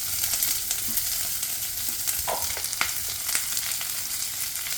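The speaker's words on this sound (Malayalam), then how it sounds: "കടുക് പൊട്ടി വരുമ്പോഴേക്കും അതിലേക്ക് പച്ചമുളക്, വെളുത്തുള്ളി," Green chilli, garlic and onion sizzle in hot oil with popping mustard seeds, a steady close crackle and hiss with no voices over it.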